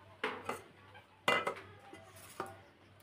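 Several sharp clinks and taps of a spoon against a bowl while fish chops are breaded with egg and biscuit crumbs, four or five distinct knocks at irregular intervals, close and clear with no talk.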